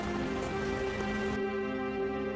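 Heavy rain in a cartoon story, a steady dense hiss of falling drops, loud and continuous with a faint tonal hum beneath and no voices.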